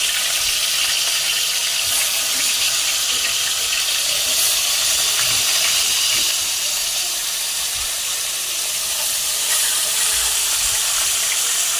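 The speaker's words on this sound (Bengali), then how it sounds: "তো এবারে মাছের পিস আস্তে আস্তে করে ছাড়বো।" Fish pieces slid one at a time into hot oil in a pan set up a loud, steady, close hiss of frying that holds without a break throughout.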